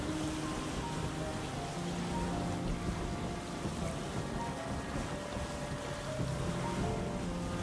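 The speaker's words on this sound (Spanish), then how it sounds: "Menudo oleaje que hay, ¿eh?" Heavy water surges and rolling surf wash steadily around a catamaran sailing rough seas in the survival game Windbound, with a continuous dense roar and no voices.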